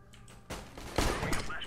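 Gunfire from the video game CS:GO, a dense burst of shots blending with a second louder volley partway through, mixed with game noise and voices.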